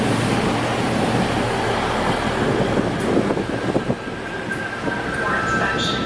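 A SMART commuter train rides toward Larkspur, heard from on board as a loud steady rumble and rushing roar with rattling car noise, easing slightly near the end, where a faint tone and voices appear.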